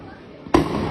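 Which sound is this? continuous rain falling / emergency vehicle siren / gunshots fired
gunshots fired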